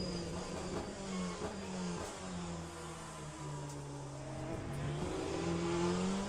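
LMP2 race car engine in the Le Mans Ultimate sim, a steady mid-pitched engine drone rising and falling as the throttle is modulated, heard from inside the car without talk.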